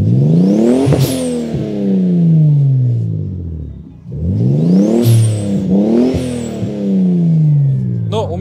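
A Toyota Supra sports car engine revs hard several times nearby, each roar climbing sharply in pitch before dropping back to a throaty idle.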